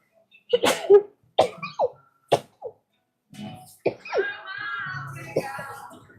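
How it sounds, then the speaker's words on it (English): A burst of several sneezes in quick succession, loud and close, followed by a breathy pause and some talking. "just had a sneezing fit"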